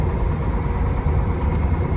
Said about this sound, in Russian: У двигателя звук совсем другой. Прям ТНВД слышно.